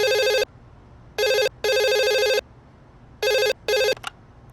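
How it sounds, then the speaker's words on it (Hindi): A telephone rings in a hotel setting, with five electronic bursts in an irregular pattern, loud and close, and no talk over it. "फोन उठा।"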